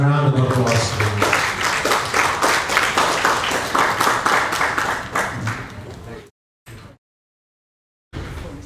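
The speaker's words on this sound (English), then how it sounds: "A round of applause, please." An audience at a cultural tourism workshop applauds a panelist with a dense, even burst of clapping. It lasts about six seconds, then cuts off, leaving brief gaps of near-silence.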